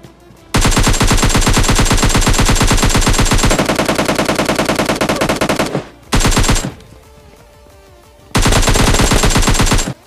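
Loud automatic weapon fire in PUBG Mobile Lite during a solo versus squad match: long rapid bursts of shots, a short gap, a brief burst, then another sustained volley, all close and unaccompanied by talk.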